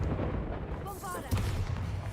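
Bombarda blasting spell going off in the game Hogwarts Legacy, a booming explosion with a rumbling low tail and a brief sparkly whine, loud and continuous through the short stretch.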